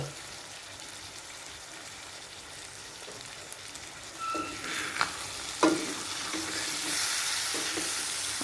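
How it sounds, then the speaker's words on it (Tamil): Chicken sizzling in a pan for a Tamil chicken roast, a steady frying hiss with a few sharper pops and clinks of stirring that grows brighter toward the end. "ஒரு மூடி போட்டு ஒரு 5 மினிட்ஸ் நல்லா சிக்கன் ஃப்ரை ஆகி வரட்டும்."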